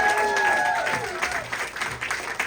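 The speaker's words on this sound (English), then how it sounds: "Clap it up for him" A comedy club crowd applauds a comedian, scattered clapping of moderate loudness with a few faint whistle-like tones early on, thinning slightly toward the end.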